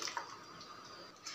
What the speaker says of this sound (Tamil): மிக்சிலேருந்து கழுவி தண்ணி எடுத்து ஊற்றியாச்சு